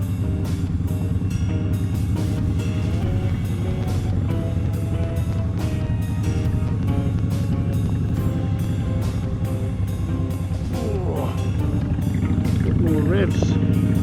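Indian Chief 2023 motorcycle climbing a twisty hill in tour mode, its engine droning steadily with strong low rumble and rising revs toward the end, loud and continuous under wind noise.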